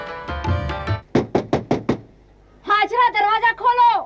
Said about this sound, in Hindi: हाजरा दरवाजा खोलो।